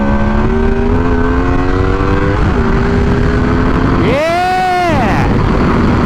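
Motorcycle engine revving high through mufflers, a loud, close tone climbing steadily, briefly dipping, then surging into a sharp high-rev peak before falling away, with no voices over it.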